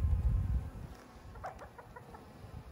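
Honey bees in an overwintered hive give off a faint, low, steady buzz, with a few soft higher chirps or clucks rising briefly in the middle.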